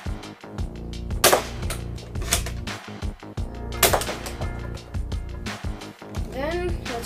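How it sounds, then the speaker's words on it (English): A Nerf blaster fires small foam darts, giving several sharp, close pops spaced a second or so apart over steady background music. "Let's start with the small ones first because they're more easier to shoot."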